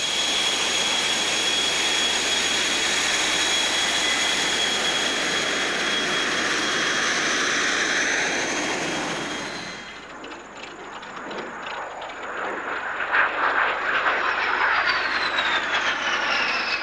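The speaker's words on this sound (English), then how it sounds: "The early years of the jet were represented by a new arrival in the UK, a Lockheed T-33" A Lockheed T-33 jet in Thunderbirds display livery roars steadily overhead at an airshow, a loud sustained rushing whine that fades after passing and gives way to a rising distant engine tone.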